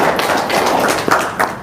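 Audience clapping at an Indonesian religious gathering, a steady patter of many hands close by with a few louder claps standing out near the end.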